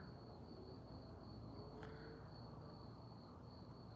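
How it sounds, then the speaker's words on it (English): Crickets chirping outdoors at night give a faint, steady high trill across the whole stretch, over a low ambient hum, with no one talking. "all the crickets"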